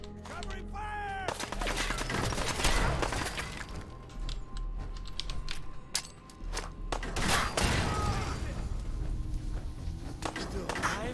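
A firefight in the Fallout 4 video game, with rapid overlapping gunshots, sharp cracks and smashing impacts crowding one another in dense bursts over several seconds, mixed with voices.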